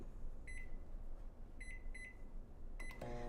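Microwave oven keypad being set to power level 5 and 1 minute: a series of short, thin beeps, single then a quick pair, then more beeps and a final tone, over a constant background hum.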